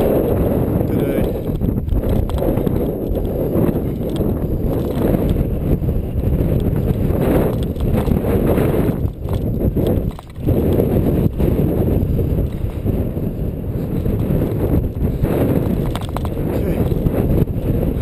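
An outdoor bicycle ride is dominated by loud, constant wind buffeting on the microphone, with a rough rumble of motion throughout and a brief dip near the middle.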